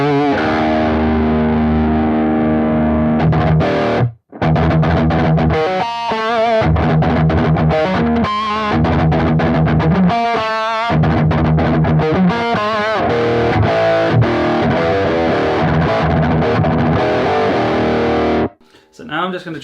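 Heavily distorted electric guitar driven through a Tube Screamer pedal for a thrash metal tone, loud and dense with chugging riffs and sustained chords, one brief gap early on and a cutoff near the end.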